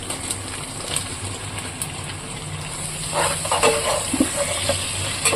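A drumstick and mushroom curry fries in a pan with a steady close sizzle and hiss, then a few louder bursts and scrapes of stirring near the end. No one speaks.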